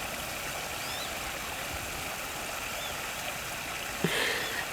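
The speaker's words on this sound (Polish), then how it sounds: "I to sobie tak szumi woda." Steady, fairly faint rushing of water from a stream or river near a bridge, continuous broadband hiss throughout with a slight bump near the end and no talk.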